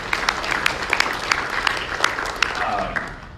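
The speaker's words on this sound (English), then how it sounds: "Give a big round of applause for them." Audience applause at a talk on outdoor media, a steady patter of many hands with sharper individual claps standing out, moderately loud and continuous throughout.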